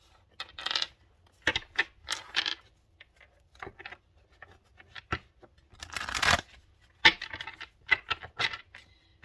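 A Love Tarot card deck is shuffled by hand, close bursts of riffling, flicking and slapping card sounds in an irregular rhythm with short pauses between, no talking.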